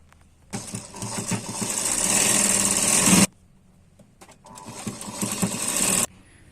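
A sewing machine stitches tucks on a double katori blouse in two long runs, a fast, loud mechanical whir and rattle that stops for about a second between bursts, with a couple of small clicks in the pause.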